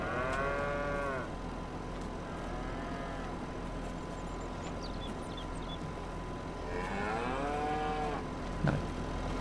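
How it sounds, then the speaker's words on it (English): Cows moo on a farm in a video game, two long, drawn-out moos separated by a stretch of steady background hum, the second moo followed by a brief knock. "Cows."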